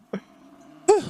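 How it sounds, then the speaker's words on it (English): A woman coughs after drawing deeply on her pipe, two short harsh bursts separated by a brief pause, close and fairly loud against near silence. "Her eyes get really wide and she just starts coughing."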